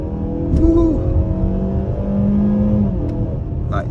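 A 2022 Mazda CX-5's non-turbo engine revs hard under full-throttle acceleration, droning steadily with rising and falling pitch through a gear change. The engine stays loud and continuous inside the cabin for the whole stretch.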